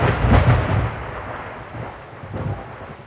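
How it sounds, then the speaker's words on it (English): Thunder rumbles in a deep, heavy roll at the start of a thunderstorm, then fades into a quieter, softer rumble, with a second swell near the end; no voices are heard. "we had a terrible thunderstorm"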